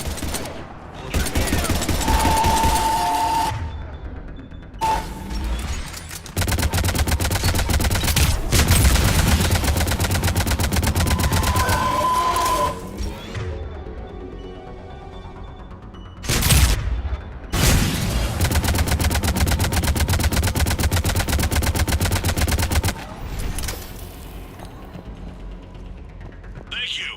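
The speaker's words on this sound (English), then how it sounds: "Harvester firing on the target!" A Harvester firing in the Mass Effect 3 video game: long sustained bursts of heavy gunfire and mechanical booms, broken by short pauses, with occasional game voices in between.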